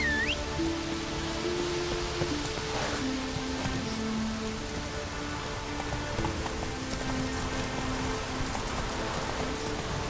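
Steady rain falls as a light drizzle in The Witcher 3: Wild Hunt, an even wash of patter with faint musical tones underneath and no voices.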